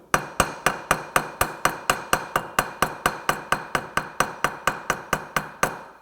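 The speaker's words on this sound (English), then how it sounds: "I'm using a saw file here" A saw file sharpening the teeth of a frame saw, about twenty-two evenly spaced metallic rasping strokes in a brisk, regular rhythm, close and crisp, with no voices.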